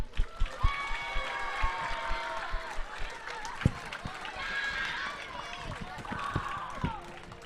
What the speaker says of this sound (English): Please give a round of applause and join us in welcoming Banujan Giridharan.